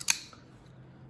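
A Honey Badger folding budget knife gives one sharp, crisp click as its blade action snaps at the very start, followed by near silence with a faint low hum.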